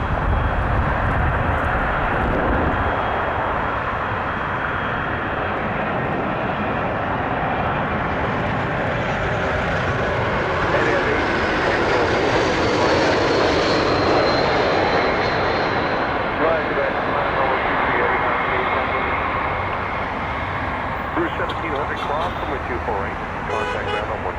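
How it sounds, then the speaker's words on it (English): Porter Embraer 195 E2 jet arriving at Toronto Pearson, a loud continuous engine roar with rumble and a rising whine, close by and sustained throughout. "Porter 306 coming in from Vancouver. Embraer 195 E2."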